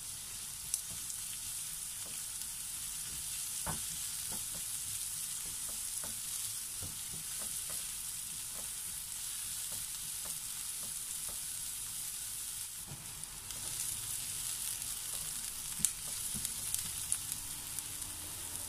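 Chopped onion sautéing in two tablespoons of cooking oil for a Filipino chicken afritada, a steady, even hiss of frying running throughout with a few faint utensil taps, close by and without voices.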